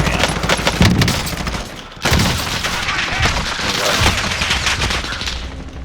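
Dense, continuous gunfire crackles through an online shooter video game match, with rapid bursts and booms layered close together over several seconds and barely any talking.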